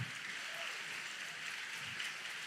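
Congregation clapping at a church youth service: a steady, dense wash of many hands applauding together, even and sustained throughout with no voices standing out.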